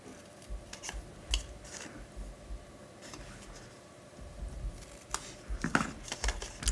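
Scissors make miter cuts in card stock for a circle gate fold card, with a series of quiet, crisp snips and rustles spread irregularly over the stretch.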